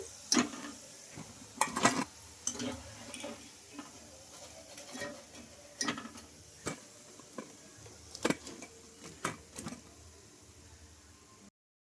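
Alasanda vadas (black-eyed pea fritters) deep-frying in oil, giving a soft steady sizzle broken by sharp clicks and clatters of a utensil against the pan, with no talk.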